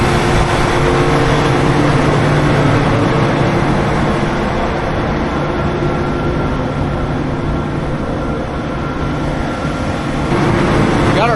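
A running 780 farm tractor engine idles loudly and steadily at close range during harvest prep, a continuous droning rumble with a whining mechanical hum throughout and no break in the sound.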